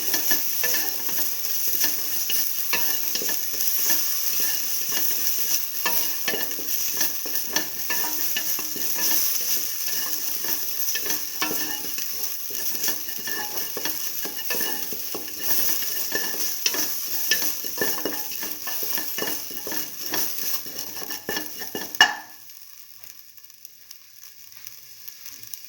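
A spoon scrapes and stirs salted split mung bean stew in a pot, a close, busy clatter with sizzling underneath that runs steadily and then stops abruptly near the end, no voices.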